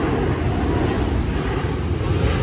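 Airplane passing overhead near an airport at a park, a steady, loud broadband engine roar with strong low rumble that holds throughout, with no talk over it.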